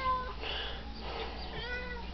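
A cat meows clearly and fairly close, giving a drawn-out, wavering call across most of the short stretch, heard alone without talk.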